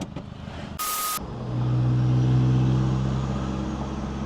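A modified car, a 1.9 tuned build, idles and pulls away on a test drive, its engine drone swelling into a steady hum with a brief sharp noise burst near the start.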